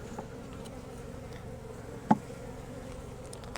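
Honey bees crowd a busy nucleus hive, their buzzing a continuous low hum close by, with one sharper, louder buzz as a bee passes near.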